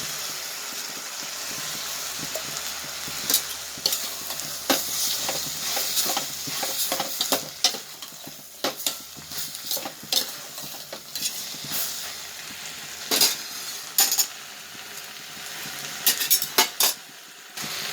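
Curry leaves and small onions sauté in sesame oil for a fenugreek onion kuzhambu, with a soft continuous sizzle beneath frequent metal spoon scrapes and clanks against the pan, close up.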